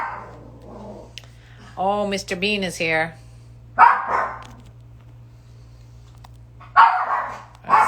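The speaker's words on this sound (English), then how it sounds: "There's a dog barking." A pet dog named Mr. Bean barks in a few sharp bursts indoors, loud and near, mixed with people talking between and around the barks.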